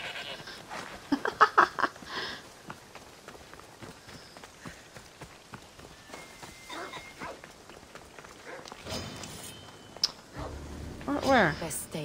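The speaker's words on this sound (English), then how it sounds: "assassinate the goat!" A goat bleats in Assassin's Creed Odyssey, with a few short bleats over running footsteps and other game sounds, while a voice talks over parts of it.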